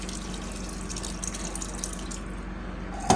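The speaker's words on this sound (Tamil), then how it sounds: "கரைச்சி புளியை ஊற்றிக்கிறங்க." Dissolved tamarind water poured steadily into a fish sambal curry, a continuous watery splashing and trickling that stays even throughout and ends with a brief louder knock, with no talking.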